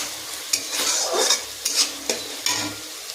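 Green chillies and tomatoes fry in hot oil, spitting loudly near at hand while a utensil scrapes and stirs in several bursts over a steady sizzle.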